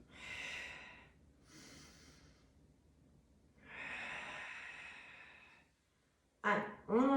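Breathing during a pilates mat exercise, several soft airy exhalations and inhalations spaced a few seconds apart, fairly close and quiet, ending with a louder sharper breath.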